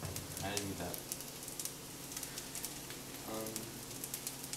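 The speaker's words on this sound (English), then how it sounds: "That's sizzling. Do you hear that? You hear that crackle?" Chicken sizzling and crackling in a hot oven, a steady dense hiss with scattered pops, fairly quiet, with brief speech over it.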